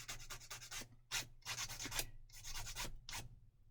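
Plastic parts from a 1/32 scale Volkswagen Beetle model kit are sanded by hand in quiet, close, rhythmic strokes, with brief rasping bursts separated by short pauses.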